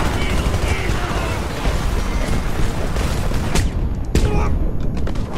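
Battle noise in the shooter Homefront, with booming explosions and gunfire rolling continuously over a loud, dense backdrop, and a sharp blast near the end. Someone talks over parts of it.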